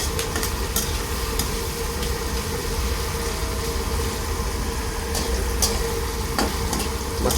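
Pork sautéing with tomatoes in a pan, a steady close sizzle and frying hiss throughout, with occasional scrapes and stirs.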